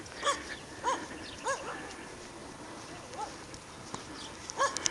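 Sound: dogs barking

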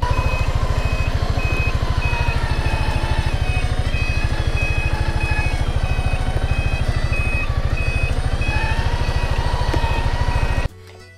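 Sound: reversing beeps of Piaggio MP3 scooter in reverse

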